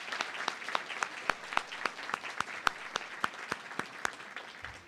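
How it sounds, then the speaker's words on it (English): Audience applause at the USF Judy Genshaft Honors College Spring 2024 graduation celebration, heard as fairly quiet, scattered sharp claps that repeat steadily for about five seconds. "give your supporters a big round of applause"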